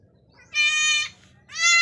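A goat that has recently given birth bleats twice at close range, each a loud, nasal, wavering call with a short pause between, over quiet farm background.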